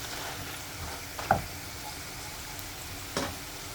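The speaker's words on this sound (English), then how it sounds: "This is my asparagus that I am sauteing." Asparagus sautéing in a pan gives a faint, steady sizzle with a couple of brief clinks or stirs, in a quiet home kitchen.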